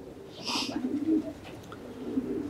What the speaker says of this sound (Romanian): Ăștia sunt porumbei